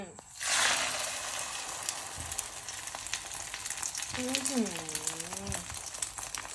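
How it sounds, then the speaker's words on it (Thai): A Thai-style omelette fries in hot oil in a wok, with a loud burst of sizzling and crackling as the egg goes in, settling into a steady bubbling hiss; a person talks over part of it. "โอเคให้ร้อนแล้วก็ทอดไข่เจียวเลยจ้า ร้อนแล้วใส่เลยจ้า"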